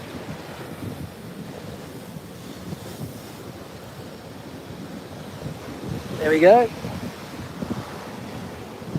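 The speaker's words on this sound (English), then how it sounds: "Those waves are just banging into that bit of rock." Ocean waves crash against a rocky outcrop on the coast under strong gusting wind noise, a heavy surf wash that surges loudly midway, with a brief spoken remark.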